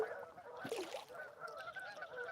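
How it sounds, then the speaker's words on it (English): A flock of geese keeps up a continuous faint, distant chorus of overlapping honks as birds land out of sight near water, heard from a kayak. "there's all those geese."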